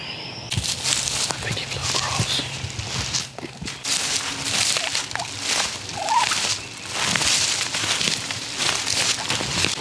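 A wild turkey gobbles from a hillside ridge during a spring turkey hunt in the woods, a few moderately loud calls rising over rustling footsteps and movement nearby.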